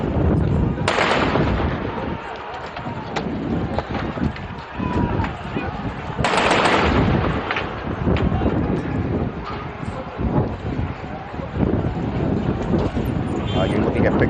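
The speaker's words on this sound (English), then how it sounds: "I think I might have heard gunfire." Gunfire on a street during protests in Tunis, heard as two sharp, loud cracks about five seconds apart over constant crowd noise, voices and wind buffeting.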